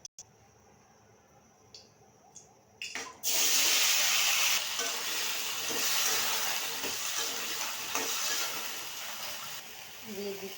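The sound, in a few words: cauliflower and potatoes frying in oil in a wok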